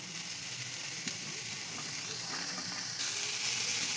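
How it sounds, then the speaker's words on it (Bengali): Chopped green chili and cabbage fry in a pan with a steady, close hiss of sizzling oil, growing slightly louder near the end, with a faint clink of utensils. "দিয়ে দেবো লঙ্কা, কুচানো লঙ্কা, একটু ভেজে নেব। এবার বাঁধাকপি দিয়ে দেব।"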